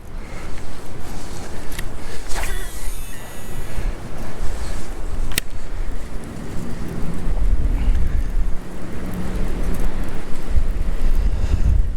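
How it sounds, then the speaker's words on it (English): Strong wind buffets the microphone outdoors while fishing from a boat on open water, a steady loud roar with low rumbling gusts and faint water lapping throughout, no voices. "But this wind is not making it easy for me."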